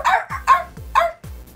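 A man imitates a dog with his voice, giving three or four quick, loud barks in a close, even rhythm with short gaps between them and no other talk.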